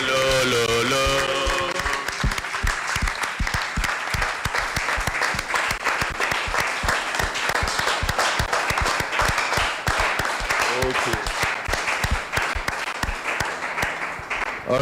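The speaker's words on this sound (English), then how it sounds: "thank you very much for the clap" A crowd at an outdoor broadcast of the Brekete Family program applauds steadily and loudly, dense clapping that swells at first and keeps going throughout.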